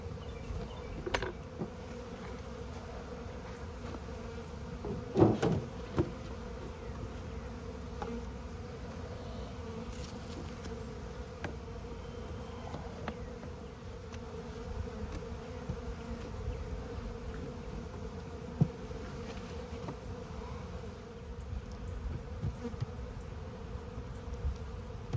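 Honey bees buzz steadily around an open hive during an inspection, a dense continuous hum with occasional louder passes of single bees close by, a few soft knocks and handling sounds, no talking.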